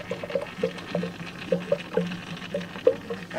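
A bypass hose on a hot Range Rover engine sizzles and pops faintly and close by. Small, irregular crackles and spits repeat over a soft background hiss.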